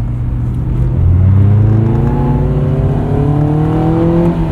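A 2001 Honda S2000 engine revs steadily upward toward high RPM, its loud, continuous whine climbing in pitch over a deep rumble, heard up close and alone.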